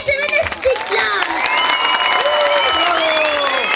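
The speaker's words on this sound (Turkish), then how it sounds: "Ben mikrofonu bırakıp alkışlayacağım" Audience applause at a Karagöz and Hacivat show with a magician, mixed with cheering and children's shouts, loud and close, while a voice talks over it.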